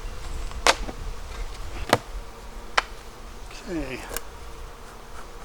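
Honey bees buzz steadily around an opened Flow Hive infested with small hive beetles, a close, continuous hum broken by a few sharp clicks and knocks, with a brief spoken word.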